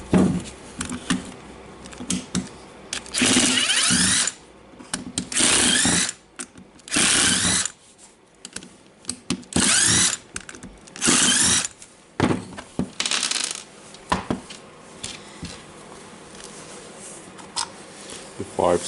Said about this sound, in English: And now it's time to open our housing here and removing this cap.